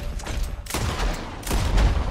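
Gunfire in the video game Red Dead Redemption 2: a rapid burst of loud shots, then a second cluster of heavy blasts, with no talk.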